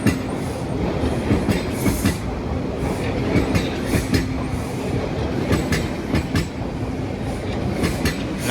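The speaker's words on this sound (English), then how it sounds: "And here comes an eastbound train again." A subway train rolls past close by in Toronto, its wheels clacking rhythmically over the rail joints under a steady rumble, with no voices.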